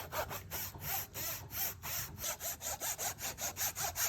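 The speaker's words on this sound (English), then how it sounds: "I get to finally pull out my Japanese saw." A Japanese pull saw cuts through a rubber block with steady, rhythmic back-and-forth rasping strokes, close and clear, roughly four strokes per second with no talking.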